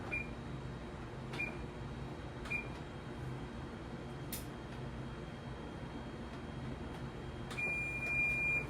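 A kitchen timer chirps in a few short, faint electronic beeps spread across the clip and ends in a brief cluster of quicker beeps, all over a steady background hum.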